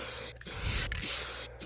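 A Rust-Oleum 5-in-1 custom spray can hissing out paint in a long steady burst, briefly interrupted twice, near and fairly loud with no talk.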